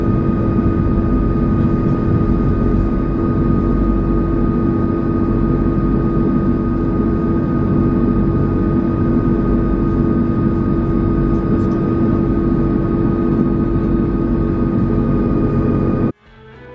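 Cabin of a Mahan Air Airbus A340-600 during takeoff, filled with a loud, constant roar and low hum of the jet engines that holds steady throughout, then abruptly cuts off at the end.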